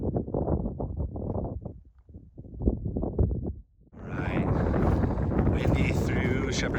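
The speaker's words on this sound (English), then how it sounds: "Windy through Shepherd's Pass," Gusty wind roars through Shepherd's Pass in the high Sierra near Mount Williamson and Mount Tyndall, buffeting the microphone loudly and steadily after a brief stretch of someone talking.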